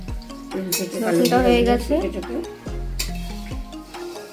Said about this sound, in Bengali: দেখো আমি চিটপিট করে ফাটছে আর ভাজা হচ্ছে।